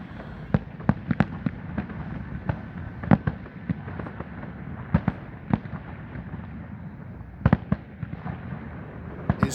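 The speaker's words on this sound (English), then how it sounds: "that's a lot of fireworks" Fireworks bursting outdoors near a cinema during a film festival, a steady run of sharp cracks and pops, some in quick clusters, over a continuous low rumble, with no talking.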